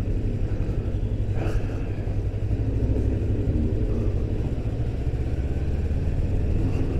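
A Voge 350AC motorcycle, a sub-400cc bike, moves slowly through a multi-story car park, its engine giving a low, steady rumble that echoes off the concrete, with a brief louder burst near the start.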